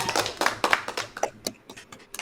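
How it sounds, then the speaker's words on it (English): A few people at a live mixtape listening party clap in scattered, uneven bursts, close and fairly light, with no talking. "Everyone clap for a round of applause"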